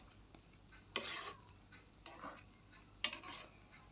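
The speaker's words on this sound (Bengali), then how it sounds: "নেড়ে চেড়ে একটু মিশিয়ে দিলাম।" Pulao being stirred after homemade ghee goes in, with three soft scraping sweeps of a spoon through rice in a pot, spaced about a second apart, close but quiet with a faint sizzle beneath.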